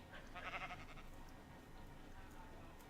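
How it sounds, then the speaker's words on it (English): Sheep bleating in the Minecraft video game, a short wavering bleat up front followed by quieter background sound, heard without talk. "And then we got the sheep."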